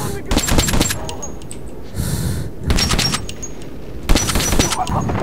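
Gunfire in the video game Metro 2033, loud clustered bursts of shots in three separate volleys with short pauses between, some sharp impacts and faint clatter in the gaps.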